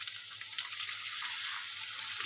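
Potatoes frying in a pan, a steady broadband sizzle that holds evenly throughout with a few small pops and crackles, close by and with no talking.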